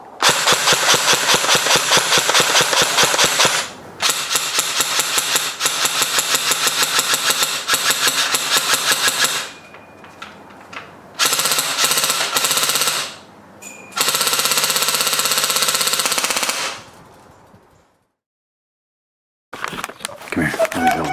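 An LCT LK53 airsoft gun's motor winds up and fires in several loud, close bursts of rapid mechanical clatter, with short pauses and one longer silence between them.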